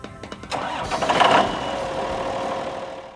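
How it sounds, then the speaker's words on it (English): A tractor engine cranks briefly, catches and settles into a steady, fairly loud idle running alone to the end. "After starting, let the engine warm up a moment"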